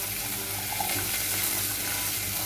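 Pumpkin and drumstick frying in a pan, a steady, dense sizzle with faint stirring scrapes, continuous and close, with no talk.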